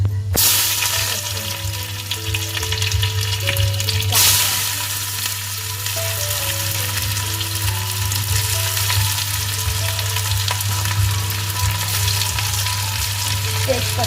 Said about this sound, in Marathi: सर्वात पहिला आपण तेल तापत ठेवलेला तर त्याच्यामध्ये राई टाकून घेतलंय